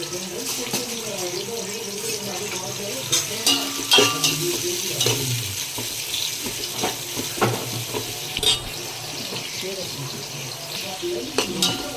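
Onions fry in a pan with whole spices for chicken biryani, sizzling steadily as a spoon stirs and scrapes in uneven strokes, close by, with a soft voice and some background clatter mixed in.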